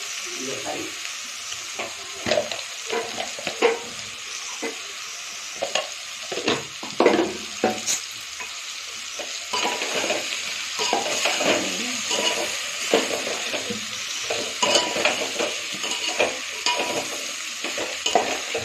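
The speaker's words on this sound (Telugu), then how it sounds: "ఇప్పుడు పులుసు పోసుకున్నాం." Tamarind liquid poured into a simmering pumpkin curry and stirred, with sizzling from the pot, clinking utensil scrapes and irregular stirring strokes close by and moderately loud.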